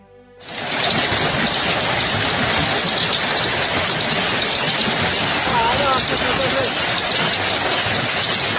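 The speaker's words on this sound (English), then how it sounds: "Heavy monsoon rains continue to lash India" Dense, heavy monsoon rain in India pours in a constant loud roar after a quiet start, steady and unbroken throughout.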